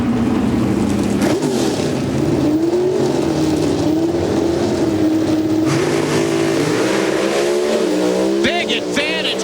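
NHRA drag racing cars launch at Sonoma during the 2003 Fram-Autolite Nationals: a loud, sustained engine roar with rising revs and a brief tire squeal, while an announcer talks over it.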